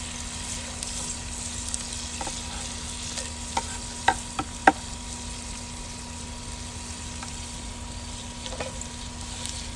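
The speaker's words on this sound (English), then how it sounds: "Now we can actually add our garlic and our mushrooms." Garlic and mushrooms sizzle in a cast iron pan on an outdoor grill. A low, steady frying hiss runs throughout, with a few soft scraping and stirring clicks in the middle.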